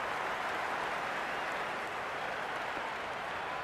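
A cricket stadium crowd at a T20 World Cup match between Australia and South Africa applauds and cheers, a dense, steady wash of clapping and roaring that stays loud throughout.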